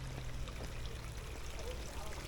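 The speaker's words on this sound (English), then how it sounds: "Slow trickle of water over the fall there." Water trickles slowly over a small pond waterfall in Peasholm Glen, Scarborough, a soft, continuous splashing and burbling heard faintly and without pause.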